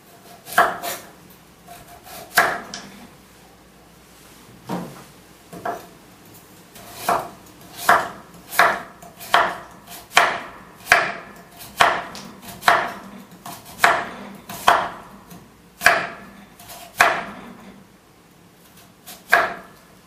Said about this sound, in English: cut the cucumber.